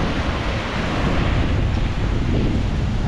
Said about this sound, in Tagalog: yung lakas ng hampas ng alon